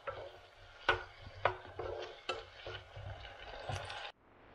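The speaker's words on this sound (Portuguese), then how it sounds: "Agora eu deixo ele refogar um pouquinho" Tomato and parsley sauté in a home-kitchen pan with a steady soft sizzle, broken by several sharper clinks and scrapes of stirring, all fairly quiet and close, with no voices.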